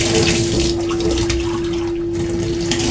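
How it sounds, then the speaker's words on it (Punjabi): Tap water pours steadily into a steel sink during washing, a close, continuous splashing rush with a faint steady hum beneath it. "ਹੁਣ ਇਹਨੂੰ ਆਪਾਂ ਜਿਹੜਾ ਹੈਗਾ ਧੋ ਦੇਣਾ ਹੈ"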